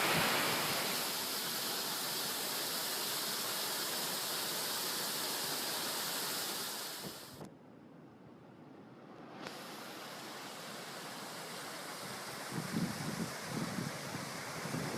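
Continuous rushing water from a small waterfall in Scotland beside a road, steady and close, cutting off briefly before resuming with light wind buffeting.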